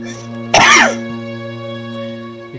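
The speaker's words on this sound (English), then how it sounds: "You coughing?" One short, harsh cough or throat clear rings out close by over a steady tonal hum, followed by quiet background.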